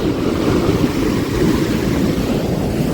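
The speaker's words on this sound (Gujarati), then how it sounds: "આખા રાતમાં એટલો વરસાદ આવ્યો ને જો ગાડી કેટલી ઊંડી હાલી જાય" A car pushing through deep floodwater on a road after a full night of heavy rain, a steady loud rushing, sloshing wash of water and engine rumble filling the whole stretch without pause.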